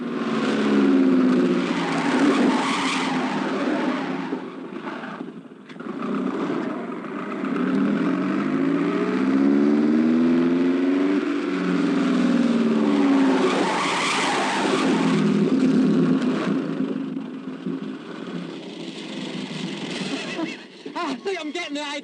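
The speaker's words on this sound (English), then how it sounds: "Always turn into the skid and then just touch your brakes" A car skids with long, wavering tyre squeals rising and falling over the engine's roar, loud and close, with a short break midway and voices speaking over the scene.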